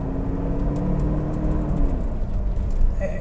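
The 4.5-litre V8 of a Mercedes-Benz 450 SLC runs with a smooth, low, steady hum, fairly close and unbroken, with no voices over it.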